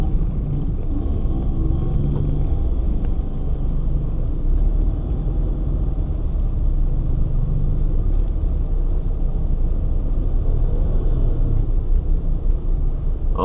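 Morning road traffic with cars and many motorbikes produces a constant heavy rumble of engines, loud and close, holding steady without pause and with no voices.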